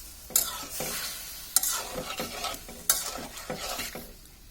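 Pre-boiled broccoli stir-fried in a pan over a high flame: a strong sizzle swells with each of about four vigorous stirring strokes, close and loud, with brief scraping ticks between.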